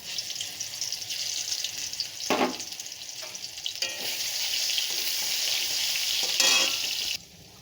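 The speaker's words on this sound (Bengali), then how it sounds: "তেলটা এই যে গরম হয়ে গেছে, এখন আমি আগে দিয়ে দেবো চিংড়ি মাছটা, যে চিংড়ি মাছটা বেটে রেখে দিয়েছিলাম ওই চিংড়ি মাছটা আমি আগে তেলের মধ্যে দিয়ে দেব" Ground shrimp paste hits hot oil in a pan with a loud, steady sizzle and frying hiss that lasts throughout, broken by a few brief stirring scrapes and clinks.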